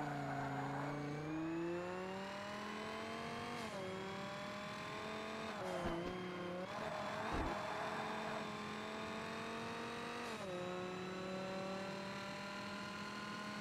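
A race car in the Forza Motorsport racing game roars through gear changes, its engine pitch rising and dropping repeatedly, with a few brief tire squeals and thumps, loud and close with no talking.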